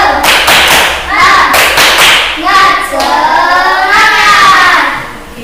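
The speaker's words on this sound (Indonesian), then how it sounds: "tepuk semangat." A classroom group of students performs a rhythmic 'tepuk semangat' spirit clap, loud close patterned hand claps and taps mixed with chanted voices that ride along with the beat throughout.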